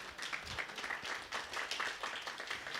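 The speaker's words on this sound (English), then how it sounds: "Clap if you remember Garfield." Comedy club audience at an open mic clapping, a dense, fairly faint patter of many hands sustained throughout with slight swells, heard at a distance.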